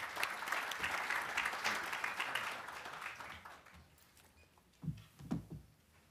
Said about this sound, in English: let's give future Dr. Ken Miles a round of applause